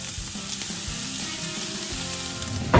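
Thin little sausage patty sizzling steadily in a hot pan, a close, even crackle running throughout with a brief louder burst at the end.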